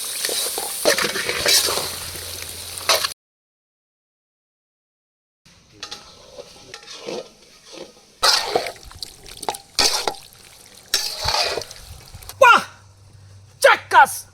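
Papaya is added to a pan of spices and stirred, making bursts of sizzling and scraping clatter. The bursts are interrupted by a silent gap and mixed with people talking.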